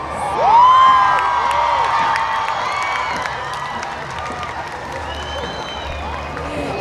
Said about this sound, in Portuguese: em meio a uma calorosa salva de palmas